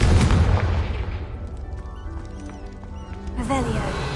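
Confringo fire spell blasts in the Hogwarts Legacy video game, a loud broadband burst at the start tailing off into fizzing magical effects, with another crackling impact near the end and speech over it.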